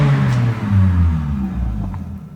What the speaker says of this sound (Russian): все работает, турбины крутятся, холостой ход держит